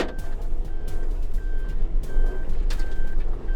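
A Suzuki Jimny backs up on a snowy mountain pass road: a loud, steady, evenly spaced series of reversing beeps over a rumbling engine, close by, with no talk.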